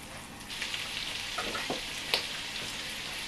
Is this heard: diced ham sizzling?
yes